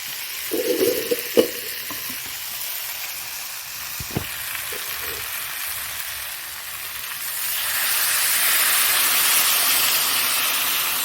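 Water goes into a hot pan of sizzling fish curry, a few clanks and stirs coming first before the hiss swells into a loud, steady bubbling steam over the last few seconds.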